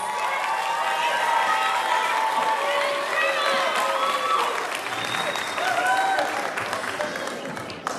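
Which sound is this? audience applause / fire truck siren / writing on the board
audience applause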